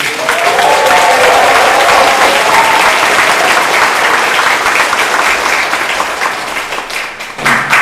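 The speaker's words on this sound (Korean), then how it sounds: "맞다고 생각하면 여러분 큰 박수 드립니다" An audience at a public hearing on a GTX-C rail line bursts into loud, sustained applause that fills the room for about seven seconds before tapering off near the end.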